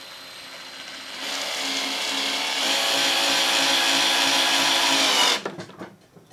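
Black & Decker Matrix brushed cordless drill driving tiny screws: a loud, close motor whine that steps up in pitch and runs continuously, then cuts off and spins down near the end.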